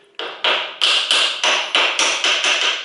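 Close, sharp metallic hammer taps drive a pin into place during a timing belt job on a 1992–2002 Toyota Corolla, about nine evenly spaced strikes heard alone.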